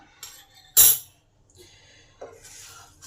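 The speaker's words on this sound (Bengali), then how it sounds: "এই সমস্ত মশলাগুলোকে ভালো করে ফ্রাই করে নেব কন্টিনিউ মশলাগুলোকে নাড়তে হবে" Whole spices (coriander seeds, black peppercorns, dried red chillies, ajwain and a pinch of fenugreek seeds) being fried and stirred in a pan; a spoon clinks and scrapes against the metal in a few sharp, separate strokes, one much louder than the rest.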